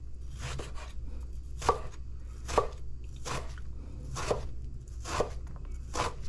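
Knife chopping eggplant on a board: five or six distinct sharp chops spaced about a second apart, fairly close and clear, over a low steady background hum with no talk.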